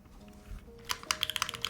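Typing on a Spectacle 80 top-mount mechanical keyboard: a rapid run of crisp, close keystrokes begins after a quiet pause, clacking in an uneven rhythm with no voices.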